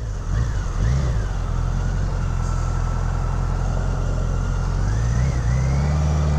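A 1985 BMW K100RS motorcycle pulls away and works up through the gears in traffic. The engine note rises and falls with each shift and stays close and loud, settling into a steady drone before climbing again, with no talk over it.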